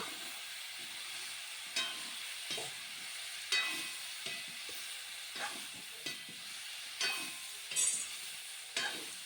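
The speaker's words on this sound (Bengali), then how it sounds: "এবার সবগুলো একসঙ্গে ভালোভাবে নেড়ে চেড়ে মিশিয়ে নেব।" Taro stolons with salt and turmeric are stirred in a pan over a soft, steady sizzle, with a dozen or so distinct scraping strokes of the spatula coming at uneven intervals.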